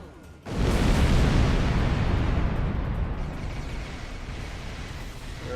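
Starship weapons fire in Star Trek Online sets off a huge, sudden blast after a brief quiet lead-in, then a dense roaring rumble that fades only slowly over several seconds and stays loud throughout.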